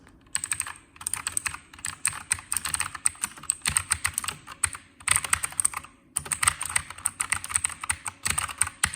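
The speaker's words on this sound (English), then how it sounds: "mechanical keyboard. Take a listen." Rapid, clicky keystrokes on an Anki KMG9 mechanical keyboard with non-MX Blue switches, loud and close, rattling along in quick bursts with a brief pause partway through.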